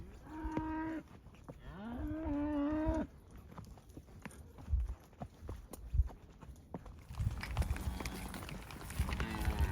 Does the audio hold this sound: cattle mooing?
yes